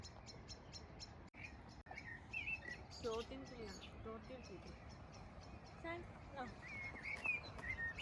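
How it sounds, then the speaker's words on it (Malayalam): Birds chirp and tweet in a botanical garden in Georgia, short high calls scattered across a soft outdoor background, with people talking over them. "ഈ നോക്കൊരു കിളി."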